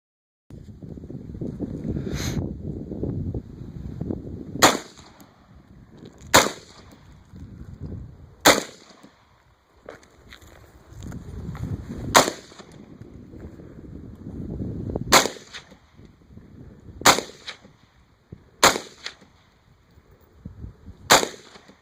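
A Bushmaster C15 AR-15 rifle fired outdoors in about ten sharp, loud single shots at irregular intervals, with gusty wind noise rumbling between them.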